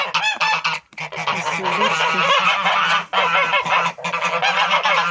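Geese honk loudly and repeatedly at close range, a noisy overlapping chorus with brief pauses.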